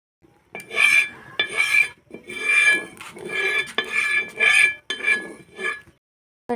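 A spoon spreads a spoonful of white oil across a hot griddle before palm fruit fritters are cooked, giving about seven close, rhythmic metallic scraping strokes separated by short silences.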